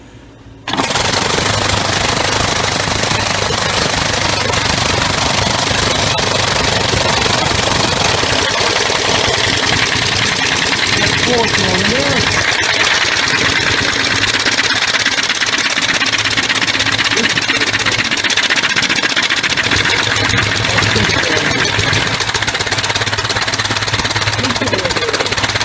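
Homemade compressed air engine started and run on two cylinders, a loud continuous rapid chattering hiss with fast mechanical knocking, beginning abruptly after a brief quiet moment and holding steady.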